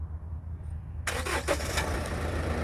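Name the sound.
Chevrolet S10 LTZ 2.8 turbodiesel engine starting by remote key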